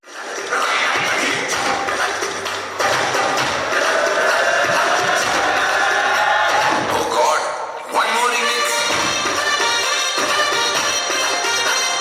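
A sangeet audience claps loudly and steadily, a dense, close wash of applause with a brief dip partway through before it surges again. Crowd noise runs through the clapping.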